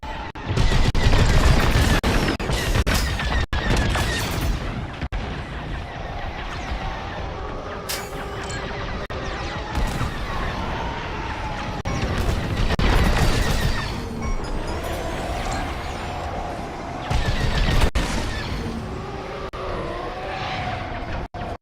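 Video game combat with a pilot under fire: dense bursts of gunfire and explosive impacts over a continuous engine roar, loud and close, swelling and easing in waves, with brief voices mixed in.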